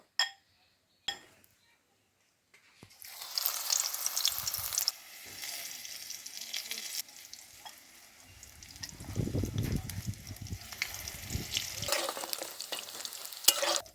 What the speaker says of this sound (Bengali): এর মধ্যে আমি কয়েকটা সর্ষে ফুলের বড়া ভেজে নেব